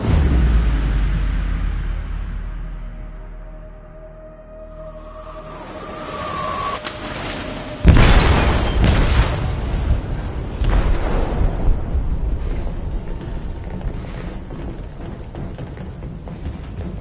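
A heavy explosion goes off in a ship's hold in Detroit: Become Human, a loud sudden boom followed by a long rumbling, crackling roar of debris and fire.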